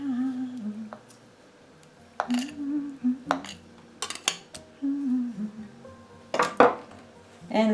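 Butter and vanilla sugar being mixed in a bowl for snowball cookies: intermittent scraping and clinking of a utensil against the bowl in short bursts, with quieter stretches between, close and moderately loud.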